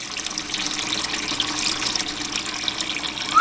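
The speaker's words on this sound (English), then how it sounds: "Okay, so it's filling up." Pumped water pours steadily into an aquaponics tank, a loud and continuous close-up splashing rush with no break.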